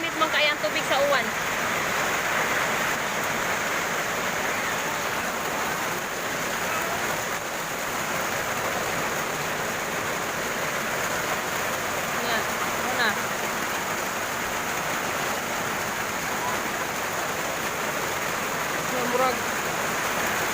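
Steady rain pours in a broad, even wash of noise that runs the whole time, with voices speaking faintly underneath in places.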